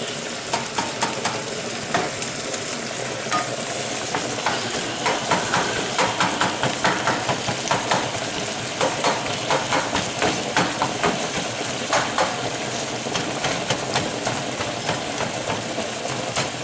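Ground beef sizzles steadily in a hot pan while a utensil scrapes and stirs it in a regular rhythm, the frying hiss loud and continuous with no talking over it.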